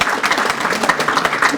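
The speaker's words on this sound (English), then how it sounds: "Let's give a round of applause." A dense, steady burst of clapping from an audience at an underage substance use reduction awards ceremony in Wicomico County, Maryland, close and fairly loud throughout.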